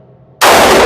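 A Glock G23 pistol fires a .357 SIG round: one sudden, very loud, close blast that cuts in after a brief near-silence and rings on.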